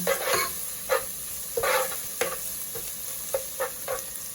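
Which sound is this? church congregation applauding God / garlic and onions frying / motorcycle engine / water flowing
garlic and onions frying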